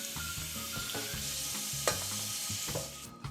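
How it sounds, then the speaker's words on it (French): Snow peas sear hard in a very hot pan for an Asian stir-fry with soba noodles, giving a steady, loud, close sizzle with scraping and stirring throughout. "Ma poêle maintenant est bien chaude et je vais faire saisir très vivement mes haricots mange-tout"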